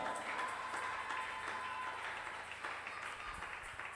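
A church congregation at a French-language worship evening applauds and cheers, a thick wash of clapping mixed with scattered shouts of joy. It stays fairly steady and gradually eases toward the end.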